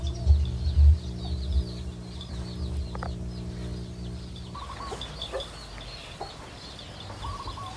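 Chickens cluck close by on a farm, alongside a buffalo pen. A loud low engine-like drone runs for the first four and a half seconds and then cuts out, leaving the clucking and calls clearer against quieter background.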